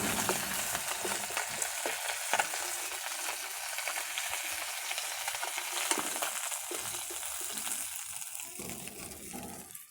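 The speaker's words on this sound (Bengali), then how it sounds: "মাছ ভাজা হয়ে গেছে।" Live katla fish fries in hot oil in a wok, a steady close crackling sizzle with occasional louder spits and pops, continuous throughout and without talk.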